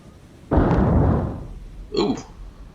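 Naval guns fire in the War on the Sea video game: a loud, broad boom that sets off sharply and rolls away over about a second, followed by a shorter, fainter second report.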